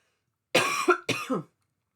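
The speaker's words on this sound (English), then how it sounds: "My apologies for the coughing." Two harsh coughs in quick succession, close and fairly loud, with no talking around them.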